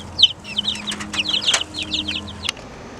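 Chickens from a fancy egg-laying flock cluck and chirp close by inside a hot greenhouse, with a busy stream of overlapping calls, a few wing flaps and one sharp squawk near the end.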